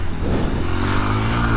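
A 2021 Kawasaki KLX230R dirt bike pulls in first gear on trials-style terrain, its engine droning close and loud with a steady mid-pitched hum that rises slightly as it accelerates.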